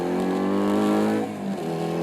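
Small 125cc twin-cylinder engine droning steadily and close as the vehicle drives along country lanes, with a slight dip and shift in pitch partway through, no voices.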